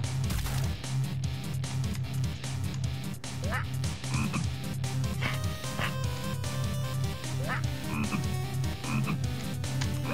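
Constant frog croaking from the video game Papyrus's Big Christmas Adventure, a dense rhythmic croak chorus running steadily throughout at moderate volume, with scattered game sounds layered on top.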